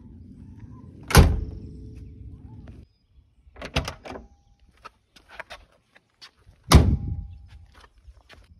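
The door of a 1971 Mercedes 280SE 3.5 Cabriolet shuts with a solid, heavy thunk. Softer clicks and handling noises follow, then a second firm slam closes the sequence.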